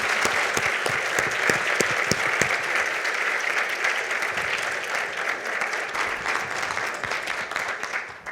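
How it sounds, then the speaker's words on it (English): Audience at a professional cohort session in Austin gives a steady, full round of applause for two speakers, dense clapping with some sharp nearby claps early on, continuing for several seconds before tapering off. "Can we give Leah and Melissa a round of applause?"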